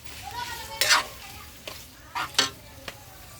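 Shredded chicken breast stirred in butter in a large pot, with a few scraping stirs and short sizzling bursts, fairly quiet and close, with a faint background voice.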